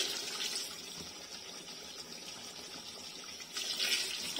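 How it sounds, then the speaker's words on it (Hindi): Leftover tomato water pours from a jug into a cooking pot for chicken shorba, a soft continuous splashing stream that swells louder at the start and again near the end, with no talk. "जग में जो था वो डालेंगे, टमाटर का जो पानी बचा हुआ था"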